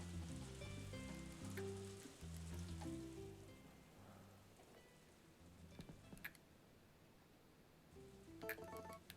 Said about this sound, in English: I didn't hear if it was raining or not. It is.